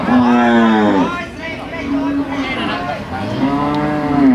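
Cattle at a Thai cattle market give repeated moos: a long low call, a short one, then another rising one, close and loud against faint background chatter.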